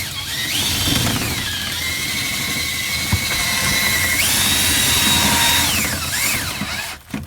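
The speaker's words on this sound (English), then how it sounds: "So just drill, move it back and forth." Power drill whirs steadily, spinning a brush on attached rods through a dryer vent duct, its pitch rising and dipping as the rods are worked back and forth, with a scraping rattle underneath throughout.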